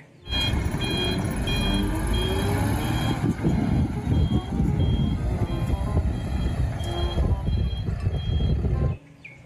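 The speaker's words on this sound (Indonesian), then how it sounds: "Mobil truk derek." Toy tow truck giving off a steady series of electronic reversing beeps over a loud motor whir, close and continuous for about nine seconds before stopping abruptly.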